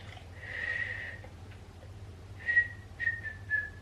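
A woman attempting to whistle: one sustained note early, then after a pause three short wavering whistled tones in quick succession, thin and fairly quiet over a low background hum.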